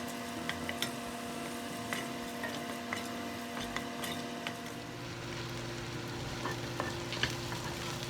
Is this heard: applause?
no